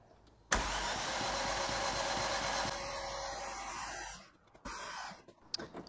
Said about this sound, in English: let's turn it over a few more times without the ECU connected, no plugs in